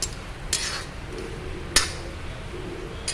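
An iron pot of homemade herbal hair oil made with black cumin and karisalankanni is lifted off a stove, giving a few sharp metallic clinks spread apart over a faint background hiss.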